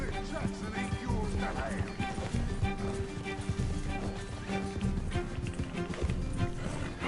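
Galloping horse hooves in the video game Red Dead Redemption 2 carrying two riders, rapid rhythmic thuds running steadily under character dialogue and game music.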